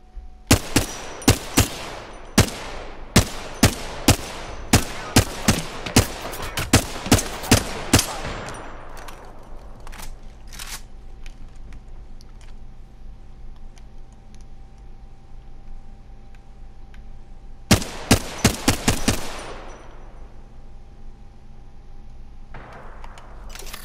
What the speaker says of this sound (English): I'm gonna shoot him too.